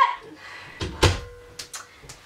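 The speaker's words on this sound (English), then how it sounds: "I'll shut the door in case she make too much noise." A door closes with a solid thump, followed by a few lighter knocks and clicks in a quiet room.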